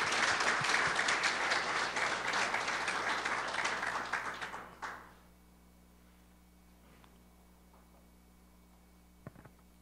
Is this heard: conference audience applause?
yes